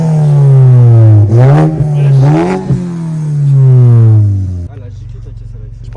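A stage 2+ tuned Volkswagen Golf GTI engine revs loudly and close by, its pitch surging up and down several times before dropping abruptly to a lower, rough idle; voices may be mixed in.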